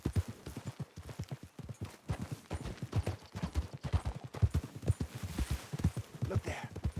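A young horse's hooves clip-clop in Red Dead Redemption 2, a quick uneven run of close, distinct thuds across the whole stretch, alone without talk.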